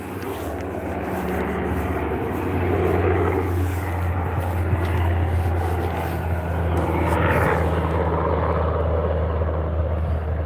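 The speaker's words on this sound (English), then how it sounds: "I think that is the Coast Guard SAR" Coast Guard search and rescue aircraft SAR 92 flying past along the coast at Withernsea, a steady engine and rotor drone that swells and fades, moderately distant, under outdoor wind with no talking.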